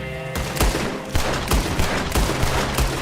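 Dual pistols firing in Red Dead Redemption 2, about eight sharp, loud shots spaced in an uneven rhythm over a steady game backdrop.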